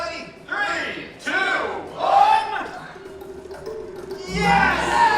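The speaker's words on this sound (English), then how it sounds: "the whole audience is going to count you down" A theme-park show audience at Disney's Animal Kingdom bird show shouts a countdown together, three loud crowd bursts in rhythm, followed by a sharp stomp and rising cheers.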